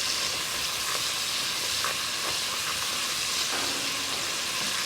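Onions and garlic sauté in a pan for braciole, giving a dense, even sizzle of hot oil close up, with soft intermittent stirring taps and no talking.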